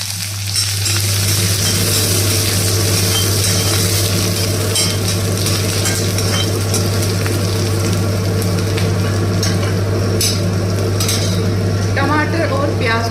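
Cumin, chopped green chillies and onion fry in hot oil over a lowered flame, a loud, steady sizzle with a constant low hum beneath it from a running kitchen chimney fan, lasting throughout with occasional stirring scrapes.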